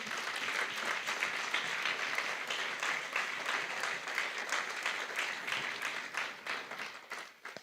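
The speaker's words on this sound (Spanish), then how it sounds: "¿Alguien le da un aplauso al Señor por ello?" A church congregation breaks into sustained applause during a sermon, dense clapping from many people that holds steady for several seconds before thinning out toward the end.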